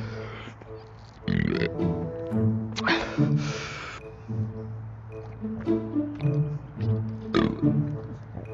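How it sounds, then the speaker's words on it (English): A person burps repeatedly after drinking a gallon of milk in a milk gallon challenge, with several loud, close belches scattered among spoken talk. "I've never burped so many times in my life."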